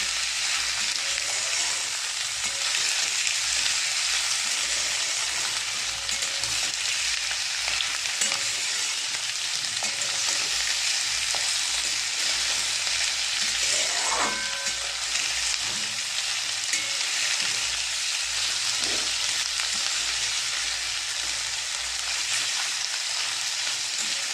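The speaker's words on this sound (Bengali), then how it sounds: "এবারে পেঁয়াজগুলো লাল লাল করে ভেজে নেব।" Onions fry in a pan with a steady, dense sizzle that runs the whole time, broken by an occasional stir or scrape of a spatula, close and fairly loud, with no voices.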